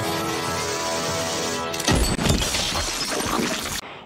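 A sheriff fires a gunshot at an alien in a film scene, blowing its head apart: a sharp, loud blast bursts into crashing, shattering debris over continuous soundtrack noise, ending abruptly.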